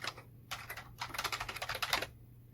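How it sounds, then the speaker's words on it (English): Keystrokes on a computer keyboard as a command is typed, two quick bursts of clicks followed by a denser run of rapid, close-up taps, with a steady low hum underneath and no talk. "Now I'm going to type javac helloworld.java"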